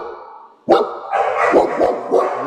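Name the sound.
growling rescued dog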